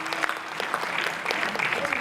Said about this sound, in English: Round of applause for these great people.